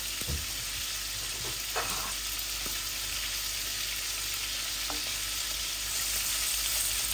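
Cumin and fenugreek seeds sizzle as they temper in a hot frying pan with bay leaf. The fizzing hiss is steady, and a few faint stirring knocks come through early on.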